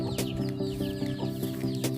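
A mother hen at a backyard home coop clucks in a steady repeated rhythm, close and clear, with a constant low hum behind her.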